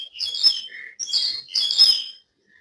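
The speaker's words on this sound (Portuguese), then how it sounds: "Eu estava olhando os passarinhos" Small birds chirp and tweet close by in three quick bright bursts of overlapping calls, with brief pauses between, and no voices present.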